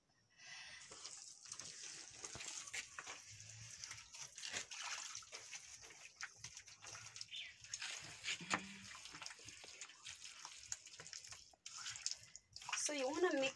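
Water is scooped and poured by hand to mix mud for smearing a village house floor, with steady splashing and trickling close by and soft voices underneath.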